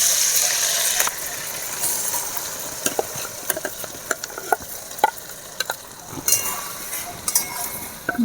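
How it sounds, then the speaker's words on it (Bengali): Soaked sago stirred in hot ghee for laddus: a constant frying sizzle close by, broken by sharp metallic clinks and scrapes of a spoon against the pan at an irregular pace. "ভালো করে ঘিয়ের সাথে আমি সাবুটা নেড়ে নেব।"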